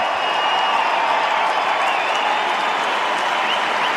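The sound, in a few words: stadium crowd cheering at AFL Derby trophy presentation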